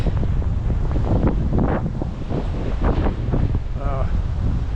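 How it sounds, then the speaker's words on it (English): Gusty wind buffets the microphone with a steady low rumble throughout, while a person talks over it. "Windy up here."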